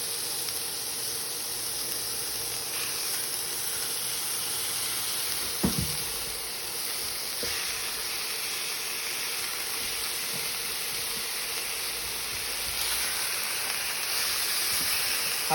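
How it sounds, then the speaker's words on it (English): Beef back ribs searing in a very hot pan give off a steady, loud, broadband hiss of sizzling fat, with a brief thud partway through and an even crackling wash that continues throughout. "We're gonna sear every single side."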